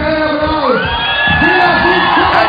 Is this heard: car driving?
no